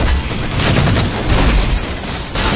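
Assault rifle fire in a Halo match, a dense, loud continuous burst of overlapping shots with booming low thuds throughout, briefly easing near the end.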